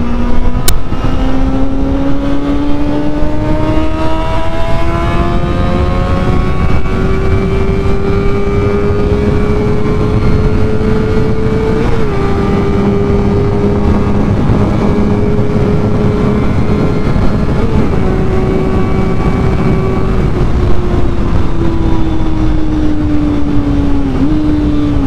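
A learner motorcycle with a stainless exhaust accelerates hard while racing a Mini, its loud engine droning close and steadily climbing in pitch through several gear changes, with no talk.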